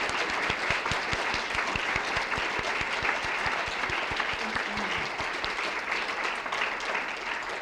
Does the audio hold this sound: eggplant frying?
no